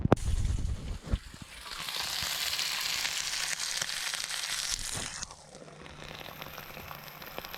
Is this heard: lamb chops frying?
yes